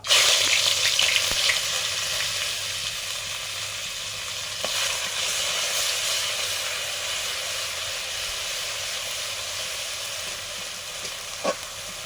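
Onion paste and turmeric fry in hot oil in a pan for a fish curry, a steady close sizzle and hiss running throughout with a louder burst at the start and a few light clinks.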